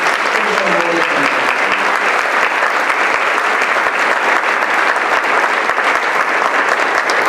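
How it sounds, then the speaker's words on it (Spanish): Loud, sustained applause from a church congregation fills the space steadily throughout, with a voice briefly audible near the start. "Dale un fuerte aplauso al Señor"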